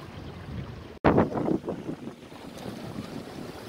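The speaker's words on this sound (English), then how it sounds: "Okay, we're sailing really nice." Sailboat under way on open water, wind buffeting steadily with a sudden louder gust and splashing wash against the hull after a brief dropout, then settling into a constant rushing hiss.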